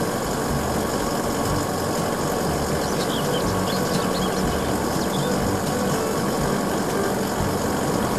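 A fire ladder truck with a skylift sits idling, its engine giving a steady, loud, continuous rumble with a dense mechanical hum that holds unchanged throughout, with no voices.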